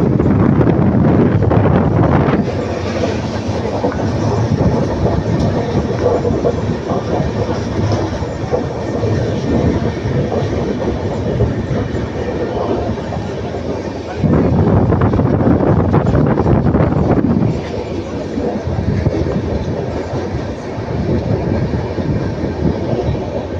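A passenger train on the Erode to Bangalore route rumbles along at speed, loud steady rolling roar with rattling carriages and wind buffeting the microphone, briefly louder sections, no talking.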